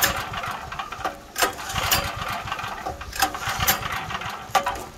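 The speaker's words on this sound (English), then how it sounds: "Let's see if we can try to pull start it." Pull-starting a Firman generator that won't start: repeated rough rope-pull cranking surges and mechanical whirring under steady broadband noise, with several sharp bursts but no engine catching, close and loud.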